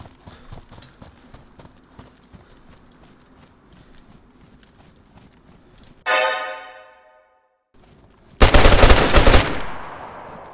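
Gunfire in the survival game DayZ, thought to come from an air rifle, arrives as a sharp burst with a ringing tail and, after a brief silence, a louder dense volley. Rapid clopping footsteps run underneath, and no one speaks.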